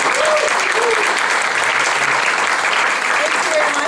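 Sustained, loud applause from an audience at a Toastmasters club celebration meeting, with faint voices mixed into the clapping.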